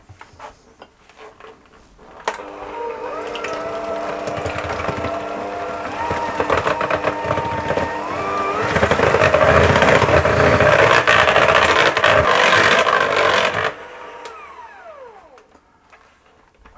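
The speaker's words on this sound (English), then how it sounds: "I'm going to whisk that to get it combined." An egg is whisked into a sweet tart pastry mixture with a continuous, close scraping whir that runs for about eleven seconds. It grows louder and denser midway, then stops abruptly.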